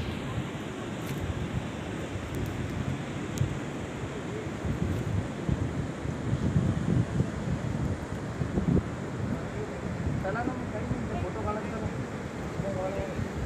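Sea waves washing in at Malgund beach near Ganpatipule, Ratnagiri, a steady broadband surf wash with wind across the microphone, continuous and fairly close throughout.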